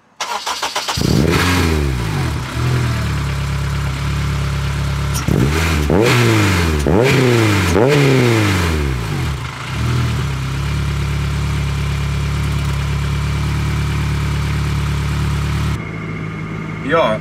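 A Toyota MR2 fitted with a K24 engine starts and idles, then gets several sharp revs in quick succession around mid-clip before settling back to a steady, loud idle, recorded close up with no talking.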